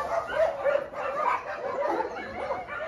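Several excited dogs at a mountain home base yelp, whine and bark continuously and close up, their high, wavering cries overlapping in a noisy, eager chorus.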